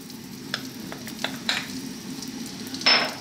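Onion and garlic frying in sunflower oil in a pan for a vegetable stew, a steady low sizzle with a few soft stirring scrapes and a brighter hiss near the end, close and fairly quiet.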